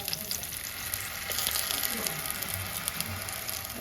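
Onion sizzles and crackles steadily in hot oil with mustard seeds, a soft, continuous frying hiss with scattered small pops, close by and without talk.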